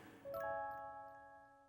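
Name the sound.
anime transition music jingle, same as Saved by the Bell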